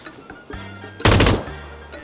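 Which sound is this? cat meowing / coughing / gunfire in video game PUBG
gunfire in video game PUBG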